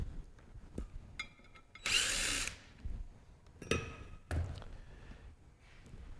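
A power drill backs screws out of a manual pump, giving short bursts of whirring, one longer loud spin and a few briefer runs, each close and separated by quiet handling noises.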